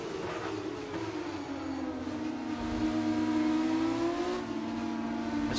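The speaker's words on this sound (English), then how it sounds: "Already maxing the car out in 6th gear." A racing car engine in a racing video game, held flat out in sixth gear, gives a steady loud drone with a slowly rising pitch that holds near the top, continuous with no talking.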